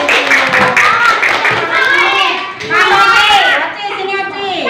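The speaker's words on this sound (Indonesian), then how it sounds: "tepuk tangan buat Devina" A group of children clap for a classmate in a primary-school classroom, with patter-like bursts at the start under steady, overlapping children's chatter and voices throughout.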